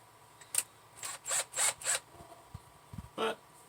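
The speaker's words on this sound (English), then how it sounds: "Technically, I shouldn't have to drill a pilot hole." Short bursts from a drill making a pilot hole for a ground screw on a 1965 Dodge Dart, several quick whirring pulses close by, with a few clicks and a short final burst.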